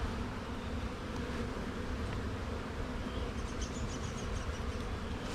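Honeybees buzz in an opened hive in spring, a dense, continuous low drone of many bees close by, steady in loudness with no talk over it.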